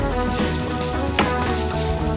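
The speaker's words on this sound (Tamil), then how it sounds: "இப்போ இது நல்லா கலர் மாறுற அளவுக்கு வதக்கணும்." Capsicum and onion sautéing in a pan for capsicum masala produce a loud, continuous frying sizzle with a brief stirring clatter midway, close and alone.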